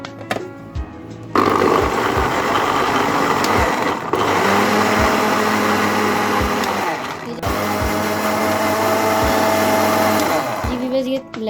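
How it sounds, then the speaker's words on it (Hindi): A kitchen blender whirring at high speed as it purees strawberries with sugar syrup, starting abruptly and running in long loud stretches with brief dips, a voice speaking faintly beneath the motor. "अब हम इसमें ऐड करते हैं थोड़ा सा, तकरीबन हाफ कप के करीब हम इसमें शुगर सिरप ऐड करेंगे और अब हम इसे करेंगे ब्लेंड।"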